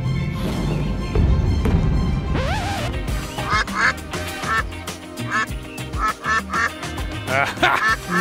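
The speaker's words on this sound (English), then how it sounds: "That's the duck!" Repeated duck quacks, loud and close, coming in a rapid irregular series over a busy background of other sounds.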